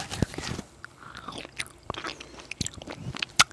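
Foldable hard candy being bitten and chewed close up, with sharp crunches and crackles scattered irregularly over a quiet background.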